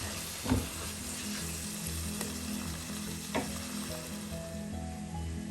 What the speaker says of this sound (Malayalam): ഉള്ളിയൊക്കെ ചെറുതായി വരഞ്ഞിട്ടുണ്ട് കുറച്ചുകൂടെ വളരാനുണ്ട്